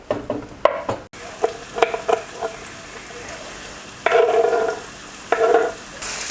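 Onions and wild asparagus sizzle and crackle in a hot pan, with bursts of louder frying as they are stirred, plus a few scraping clatters.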